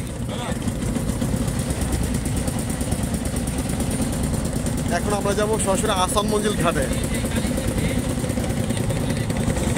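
A trawler boat's loud engine drones without a break on the Buriganga river in Dhaka, with someone talking over the noise.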